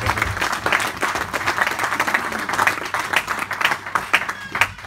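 A church congregation applauds during a sermon, heard as loud, close, continuous clapping with distinct individual claps and some crowd noise throughout.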